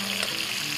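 Slices of liver sizzle and fry steadily in a pan, a continuous close crackle with no pauses and no voices over it.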